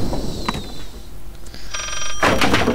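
A mobile phone rings in the horror video game Layers of Fear, a short burst of electronic ringing near the end among other game sounds and thumps, with no talk.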